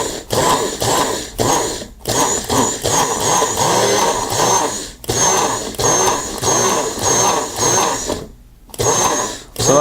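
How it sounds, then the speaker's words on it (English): A Magic Bullet blender pulses sugar into powdered sugar in a run of loud, close whirring bursts, each roughly one to three seconds long, separated by short stops. "if you keep pulsing and do it for about 20 seconds, it's actually going to create powdered sugar"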